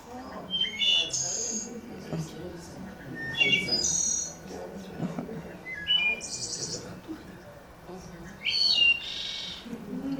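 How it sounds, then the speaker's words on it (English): Several clear, flute-like phrases of wood thrush song ring out at intervals, bright and melodic, while people talk quietly underneath. "this is a wood thrush."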